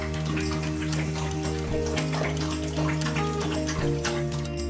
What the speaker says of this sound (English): While the bath was getting ready, the poor boy started to drink the water.